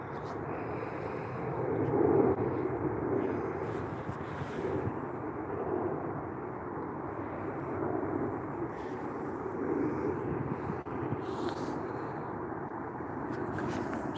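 An aeroplane flying high overhead at steady altitude produces a distant, continuous low drone, mixed with soft wind rumble throughout.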